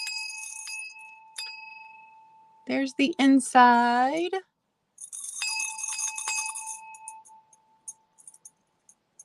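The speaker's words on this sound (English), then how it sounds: "Anybody interested in the brass apple bell?" A brass apple-shaped bell rings with a clear, sustained metallic tone that decays slowly, struck a few times with lighter jingles after, close by, while a person briefly speaks between the rings.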